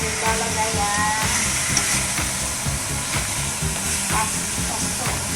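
Food browns in a hot pan ahead of tomato-basil pasta sauce, a steady close sizzle with occasional stirring scrapes and clinks, lightly under background sound.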